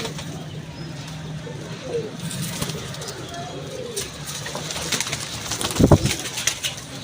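Pigeons in a cage coo softly and repeatedly nearby while people talk over them.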